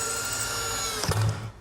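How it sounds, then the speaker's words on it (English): A power drill driving a 3-inch screw into wooden workbench legs, a steady high motor whine ending in a brief heavier grinding bite as the screw seats, close and loud. "I'm using 3-inch rock screws to attach the legs"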